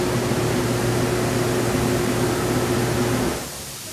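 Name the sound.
ozone bubbles in an Arctic Spas Totem hot tub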